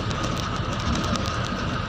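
A loaded metro train rolls past close by with a steady, loud rumble and rhythmic clatter of wheels on the rails, continuous for the whole stretch with no talking.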